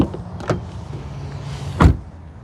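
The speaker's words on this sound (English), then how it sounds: "let's listen to the sound of the closing door" A 2026 Genesis GV70 Sport SUV door slams shut with a single solid thud near the end, preceded by faint mechanical clicks and a low background hum.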